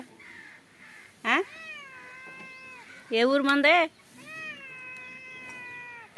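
A house cat meows several times up close, with a short cry, a louder drawn-out wail and long tonal mews, while a person talks to it between the calls.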